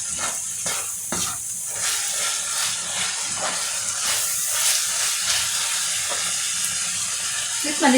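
Finnish cabbage casserole ingredients simmering and sizzling steadily in a pan at home, a close continuous frying hiss with occasional stirring scrapes and no talk.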